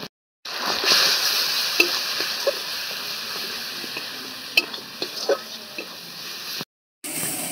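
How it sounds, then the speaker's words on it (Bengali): Turmeric and chili powder masala sautéing in a pan for a prawn dish, a steady sizzle with scattered scraping clicks from stirring, close and moderately loud, with no talk. "মশলাটা কষানো হয়ে গেছে, এবার মটরশুঁটিটা দিয়ে একটু নাড়াচাড়া করে নেব।"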